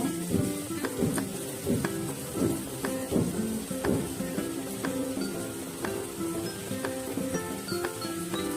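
Finely chopped onion fries gently in two tablespoons of oil over a medium flame, a soft, quiet sizzle with occasional light clinks of a spoon against the pan.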